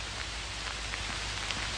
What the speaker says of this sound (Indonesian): Nih, hujannya hujan hakel ya.